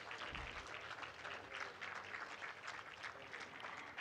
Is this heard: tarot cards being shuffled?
no